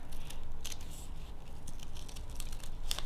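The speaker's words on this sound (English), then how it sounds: "if you have some nice scissors, it's going to cut really smoothly" Nice scissors cut smoothly through extra fine crepe paper while a paper flower pattern is made, producing a close, soft run of snipping and rustling strokes with a faint crisp crinkle near the end and no talk.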